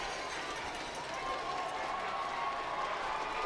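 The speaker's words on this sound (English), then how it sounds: "Destrehan fans are cheering." Home football crowd in the stands at a Dutchtown vs Destrehan high school game, a steady dense roar of cheering with scattered clapping that holds loud and continuous throughout.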